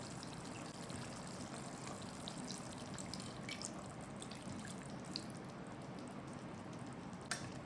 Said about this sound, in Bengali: আমরা এতে আরো 1/4 কাপ দুধ দিয়ে দেব।